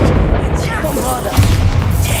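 A Bombarda blasting spell goes off in a Hogwarts video game, a loud, deep thudding blast with gunfire-like punch, heard beneath a speaking voice with a stronger boom midway through.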